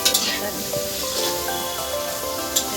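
Mutton cooks in a pan in a home kitchen during a Bhogali Bihu feast, a loud, continuous close sizzle with faint stirring and no speech.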